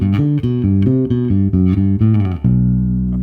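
A bass guitar plays the opening riff of a song in E natural minor, a run of clear, loud picked notes shifting pitch before settling on a sustained low note.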